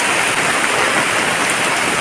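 Heavy downpour on a hut, a dense, loud, continuous hiss of rain beating on the roof with no pauses, close and alone.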